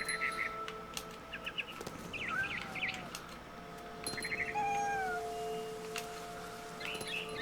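A cat in What Remains of Edith Finch gives several short meows and cries over a busy game soundscape. Bird chirps and tweets overlap the meows, and a steady ambient hum runs underneath.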